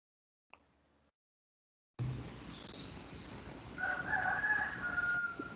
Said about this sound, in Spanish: El gallo que me está cantando.